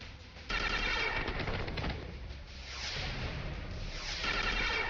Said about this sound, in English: Those are really powerful weapons he's firing at me